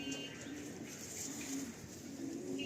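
A male Madrasi pigeon coos softly and repeatedly in short, low, throaty phrases against a faint, steady background hum.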